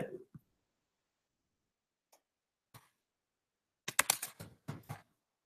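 Computer mouse clicks and keyboard typing at a desk while a Google form is built: a couple of isolated soft clicks early on, then a quick burst of close keystrokes and clicks near the end, with a few words spoken at the start.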